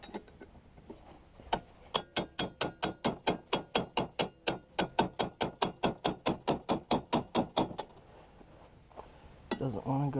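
A hammer strikes a bolt on a rotting 1970s Yamaha snowmobile about thirty times, in a rapid, even series of sharp metallic blows close by. Brief speech follows after the hammering stops.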